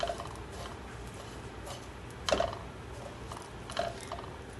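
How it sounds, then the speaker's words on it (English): Toasted sevaiyan vermicelli with nuts crunches twice, quiet and close, with a short gap between the crisp bites over a soft background hiss. "You can hear the crunch in the sevaiyan, so you know that they are roasted well."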